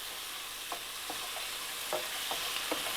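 Malaysian sambal sauce stir-frying over a high flame, a constant bright sizzle with scattered scrapes and taps of a utensil against the pan, no voices.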